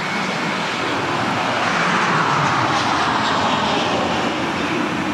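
An aircraft flies overhead with a steady, broad jet roar that swells to a peak midway and holds, loud and continuous with no voices.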